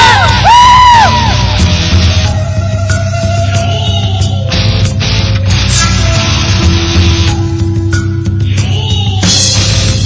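A school arts performance audience yells, whoops and cheers loudly over stage music, a lively crowd roar sustained throughout.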